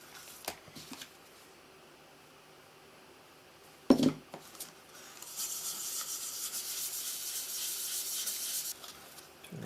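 Cloth rubbing AutoSol metal polish in circular strokes over a scratched white plastic Toshiba RC-691F flip clock case, a soft close swishing that starts after a sharp handling knock and runs steadily to the end, with no talking.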